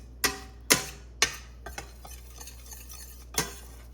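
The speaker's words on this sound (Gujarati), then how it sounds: "આવું અત્યારમાં કંઈક મસાલો શેકાઈ રહ્યો." Spices dry-roasting and being stirred in a pan over a low gas flame, with a few sharp scraping clinks of a spoon against the pan spaced apart over a quiet low hum.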